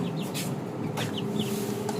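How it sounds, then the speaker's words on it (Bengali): Faumi chickens in a small cage give several short clucks and squawks, close and fairly loud, over a constant background hum with brief rustling flutters. "মুরগিগুলো অনেক ছটফট করে"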